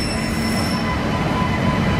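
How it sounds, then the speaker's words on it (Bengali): The Howrah Katihar Express stands at a station platform with a loud, steady rumble of train wheels and a thin high squeal, heard close and without pause. "এই যে এটা হচ্ছে হাওড়া কাঠিয়ার এক্সপ্রেস, 1 নম্বর প্ল্যাটফর্মে দিয়েছে।"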